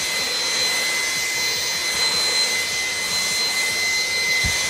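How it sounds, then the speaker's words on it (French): A Dreame V11 cordless stick vacuum cleaner runs continuously with a loud, even whooshing whine and a high motor tone, close by and steady throughout. "Voilà pour la présentation du Dreamy V11, l'aspirateur balai, gros concurrent du Dyson V10, très portable."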